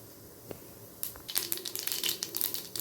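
Mustard seeds, urad dal and cumin splutter in hot oil for a curry leaf chutney. After a near-silent start, quick, irregular crackling pops burst out and keep going close by, with no talk.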